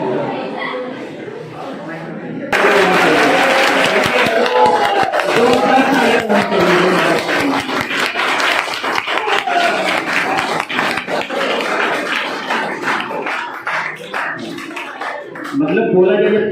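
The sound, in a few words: students applauding, clapping hard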